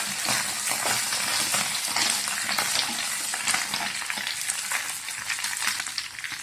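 Okra dry-sautéing in a pan hisses in a dense, continuous crackle, close and fairly loud, with stirring rustles running through it and no voices.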